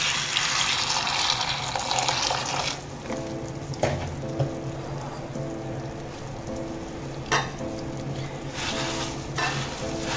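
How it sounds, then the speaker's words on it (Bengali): Water is poured into puffed rice in a kitchen while making pakoras, a steady close splashing and trickling with a few sharper clinks. "এবার আমি মুড়ির মধ্যে দিয়ে দেব পরিমাণ মতো জল।"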